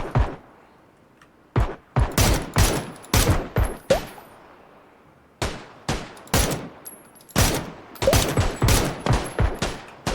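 Gunfire in PUBG: Battlegrounds comes in repeated loud bursts of rapid shots, separated by short pauses, with sharp, punchy cracks close by.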